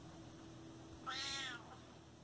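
A cat gives one clear, rising-and-falling meow, moderately close over a quiet indoor room hum.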